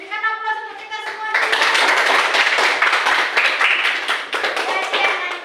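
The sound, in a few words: classroom applause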